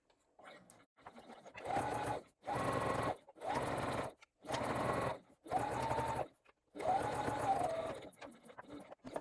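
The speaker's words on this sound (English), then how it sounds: "we will be sewing straight across the bottom, backstitching at the beginning and the end" Sewing machine stitching a straight bottom seam on a fully lined boxy bag, running in six loud bursts of steady whirring separated by short pauses for backstitching at each end.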